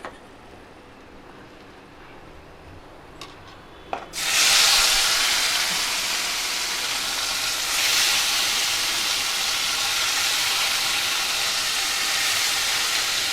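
Tomatoes dropped into hot oil for a tomato and peanut chutney burst into a loud, steady sizzle after a quiet start, the hiss holding strong and swelling slightly midway with no one talking.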